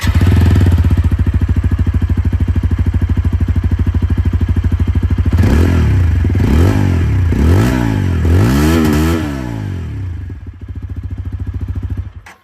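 A TVS Apache RTR 160 4V motorcycle with an updated exhaust idles loudly and steadily up close, then is revved in several rising and falling blips before settling back to idle; no talking.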